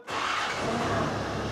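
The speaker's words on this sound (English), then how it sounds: "Let's try and start the car." A Land Rover Defender Td5 diesel engine catches and fires up after a cylinder head replacement, settling into a steady, close, loud running idle with no talk over it.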